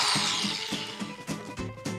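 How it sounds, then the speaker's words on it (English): A power drill bores upward into a bedroom ceiling toward the attic, whining steadily with repeated surges and bursts as the bit bites, close and loud without talk. "I gotta drill up and make the official hole now"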